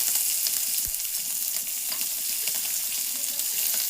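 Onion, curry leaves and green chilies frying in hot oil for a tempering, with a steady close sizzle throughout and a faint stir or clink of the pan near the start.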